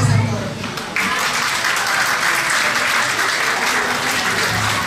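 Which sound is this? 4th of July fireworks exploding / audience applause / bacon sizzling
audience applause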